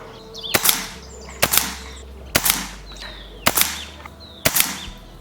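Five sharp .22 air rifle shots with JTS 22-grain pellets come at roughly one-second intervals, each loud crack followed closely by the pellet's smack on the target, against a quiet outdoor background with faint birdsong.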